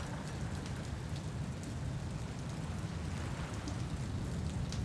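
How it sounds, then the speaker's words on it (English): Steady game rain falling on a helmet visor aboard a vessel in the sailing simulator Following Seas, a dense continuous patter at a constant level with no talk. "Bit of rain on my visor."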